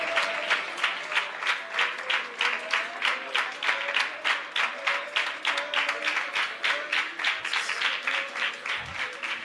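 A church congregation claps together in steady rhythmic unison, sharp repeated hand claps at a brisk even beat, fairly close and continuous, with a faint voice underneath.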